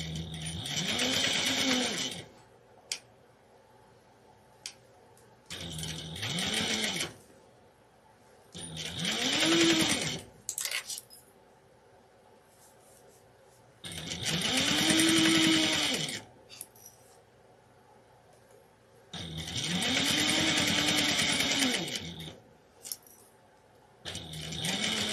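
A sewing machine stitches a quilt pattern in about six close, steady bursts of rapid needle chatter, each a few seconds long and separated by short quiet pauses for repositioning.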